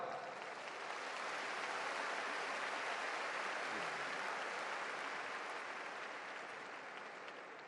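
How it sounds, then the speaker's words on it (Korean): A large festival audience gives sustained welcoming applause, an even, dense roar of many hands clapping at steady loudness throughout. "환영의 박수 함께"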